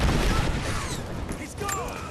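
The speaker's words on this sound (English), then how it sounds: "Give me suppressing fire!" Dense gunfire in the Rise of the Tomb Raider video game, a continuous loud barrage of shots with rumbling low booms, while voices call out over it.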